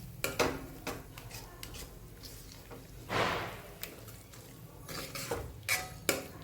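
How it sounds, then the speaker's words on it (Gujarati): A spoon stirs masala through mashed eggplant bharta in a pan, giving soft irregular scrapes and clinks against the metal over a faint sizzle, close but quiet, with no talking. "સરસ મિક્સ કરી લઈએ. મસાલો સાથે એક રસ થઈ જાય ત્યાં સુધી."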